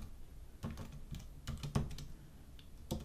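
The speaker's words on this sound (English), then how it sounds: "So I will type that in." Keys clatter on a computer keyboard as a password is entered for a WPA2 Wi-Fi network, a few bursts of close clicks with short pauses, no voices.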